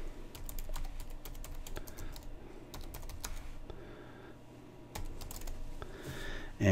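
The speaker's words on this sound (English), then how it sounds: "So we're going to type in the website that we want." Quick, uneven keystrokes on a computer keyboard type out a website address, close and soft, with irregular clusters of clicks and short pauses between them.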